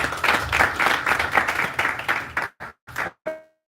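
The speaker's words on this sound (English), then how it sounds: "let's give a good round of applause to Honorable" Audience applause for an honorable guest at a Kenyan economic forum, a loud burst of many clapping hands that breaks off after about two and a half seconds into a few scattered final claps.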